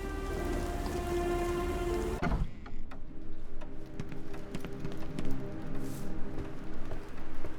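Steady rain patters on a surface in a video game, with a denser droning layer in the first two seconds before the rainfall continues alone.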